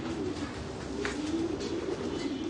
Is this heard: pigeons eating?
yes